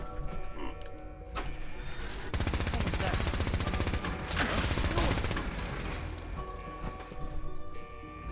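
Gauss rifle fire in Fallout 4, dense rapid mechanical bursts that crackle loudly across several seconds between quieter mechanical hums and creaks, with a tonal electronic whine around them.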